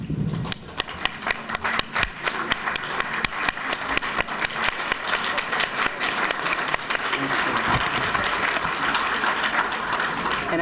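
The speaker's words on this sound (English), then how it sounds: "I want to applaud us." At a Women's History Month celebration, an audience applauds the women in the room, scattered individual claps quickly building into a full, dense wave of applause that stays loud and close to the end.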